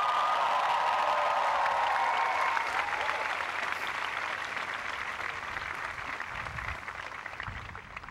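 Sustained applause and cheering from the Dartmouth class of 2011 commencement audience, a dense crowd clapping steadily with no break and fading slightly toward the end.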